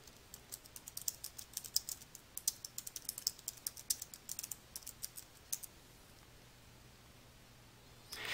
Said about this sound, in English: type the tooltip text into the tooltip field